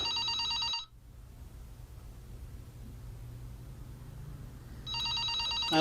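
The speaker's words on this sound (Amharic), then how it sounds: "ሰብሊ እሱ ስልክ ታነሺው፣ የምጠብቀው ስልክ አለኝ" A telephone rings briefly, goes quiet over a soft background hiss, then starts ringing again near the end; no one speaks.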